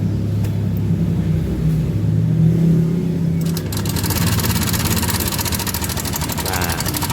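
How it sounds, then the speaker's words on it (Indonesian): Honda Vario 125 scooter engine running with a noisy, whining final drive, a low rumbling idle that shifts into a busier, rattling mechanical buzz when revved partway through. "Ini suara dari mesin ya."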